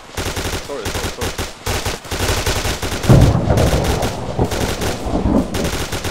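Rapid machine-gun bursts and rifle shots in a squad-based war video game, loud and close, firing in dense volleys with brief pauses throughout.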